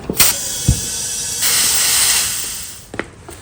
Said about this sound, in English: I'm gonna put some air in the tire.